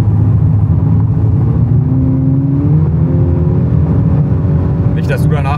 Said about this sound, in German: in dem einen Gang beschleunigen wir dann einfach immer nur durch